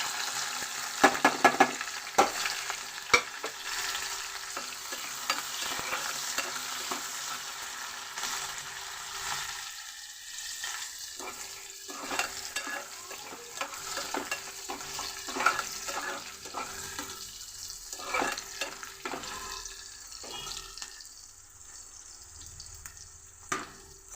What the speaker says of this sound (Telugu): పచ్చిమిరపకాయ ముక్కలు వేసేస్తున్నాను.